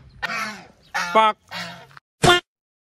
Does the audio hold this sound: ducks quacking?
yes